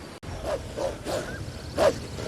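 Hungry wolves in the grass in the video game Black Desert Online give several short snarling, yipping growls in a loose rhythm, moderately close.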